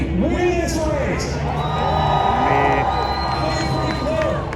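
A crowd at the TX2K drag race cheers and whoops loudly, with scattered shouts rising over a constant roar of voices.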